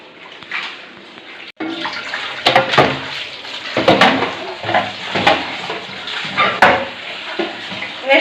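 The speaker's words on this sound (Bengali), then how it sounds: "জল দিয়ে ভালোভাবে ধুয়ে নিচ্ছি।" Vegetables, including leafy greens with stalks and potatoes, rinsed under running water in a kitchen, with splashing and intermittent clinks of pots and utensils nearby, fairly close and moderately loud.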